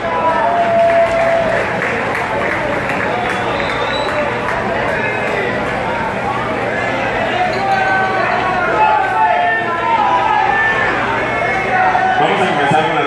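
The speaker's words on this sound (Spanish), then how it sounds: "un fuertísimo aplauso para todos" Sustained applause from a pageant audience for the Miss Teen candidates, a dense, steady wash of clapping with crowd chatter mixed in throughout.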